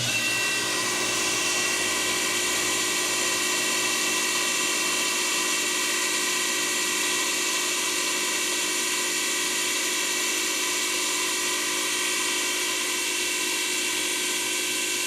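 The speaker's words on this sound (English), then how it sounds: "let's grind those spots" A power grinder runs continuously against spots on a piece of forged metal, giving a steady, loud, high-pitched whine with a constant grinding hiss close up and no pauses or voices.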